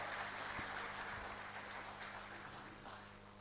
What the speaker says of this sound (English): Now the big round of applause, ladies and gentlemen,